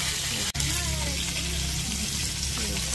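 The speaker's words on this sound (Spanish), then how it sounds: "Me encanta freír la cebolla así en el pescado" Onion frying with fish in a pan at a home lunch: a loud, steady sizzle and crackle close up throughout, with one brief dropout and faint voices beneath.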